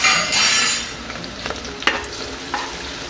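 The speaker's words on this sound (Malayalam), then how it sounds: "ആദ്യമേ നമ്മൾ സ്ലൈസ് ചെയ്ത് വെച്ച ആ സബോള ഒന്ന് വറുത്തെടുക്കാം" Sliced onions fry in hot oil for a fried chicken dum biryani: a bright burst of sizzling at first, then a softer hiss with a few sharp clinks of stirring against the pan, close up.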